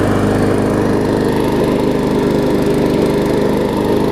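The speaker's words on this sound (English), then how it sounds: "Love it when a new motor starts on the first pull. It's nice and smooth" Newly fitted engine on a Murray lawn mower running close and loud, a smooth, steady buzzing drone with no talking.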